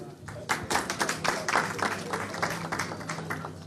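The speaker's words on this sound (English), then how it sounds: "Please, a round of applause for her." A gathering applauds a woman who has been called up to give an opening prayer, with a few loud individual claps standing out over a thinner round of clapping. Voices murmur underneath.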